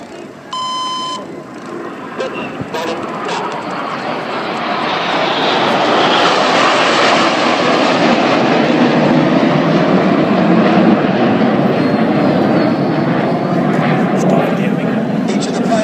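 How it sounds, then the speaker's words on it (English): Red Arrows jets flying the Revolution formation in a Jersey air display, their roaring engine noise swelling from moderate to a loud, sustained rush that holds steady, with crowd voices faintly underneath. "Each of the pilots of the Revolution performing an aileron roll manoeuvre"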